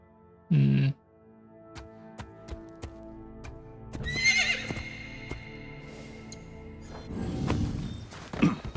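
An armored horse in Assassin's Creed Shadows whinnies and snorts amid hoof clops, thuds and clanking gear, with scattered clicks and a brief burst of louder movement, fairly close.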